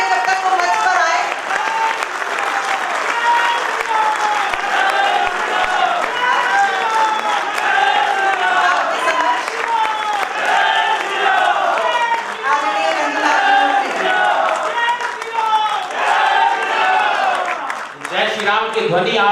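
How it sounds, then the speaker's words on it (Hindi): Sustained audience applause fills a stage event hall in India as a guest, senior advocate Ranjana Agnihotri, walks onto the stage, steady and dense clapping throughout, tapering briefly near the end. "आपकी तालियां बजती रहे जब तक वो मंच पर आए।"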